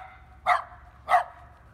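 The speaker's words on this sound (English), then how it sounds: "the dog still barked at me" Two sharp barks from a dog in a yard outdoors, a short distance away, spaced about half a second apart against a quiet background.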